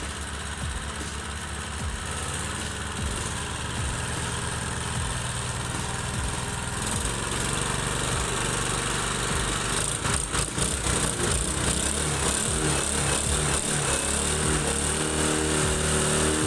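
A repaired 1200W portable generator engine idles steadily and close by, a continuous low rumbling drone that grows slightly rougher and louder partway through.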